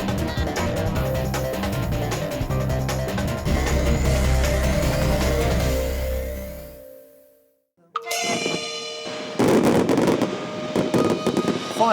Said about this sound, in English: Fireworks are a perennial favourite in any event.